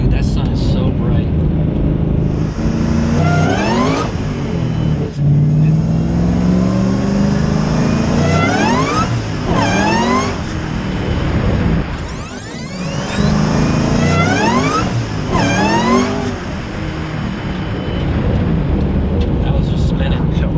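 A loud, modified 900hp Ford Mustang GT500 engine revs and accelerates hard through several gear changes, pitch sweeping up repeatedly, with a brief burst of noise midway as the tires spin.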